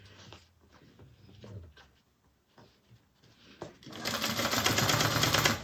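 A sewing machine bastes a seam on a satchel bag. It starts with a few quiet clicks and handling sounds, then runs loud and steady for the last couple of seconds.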